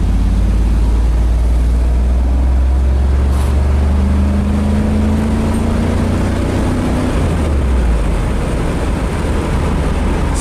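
A 1996 Camaro Z28 V8 engine is revved up to around 4,000 rpm from inside the car, a loud steady low drone with a rising tone in the middle before settling back down.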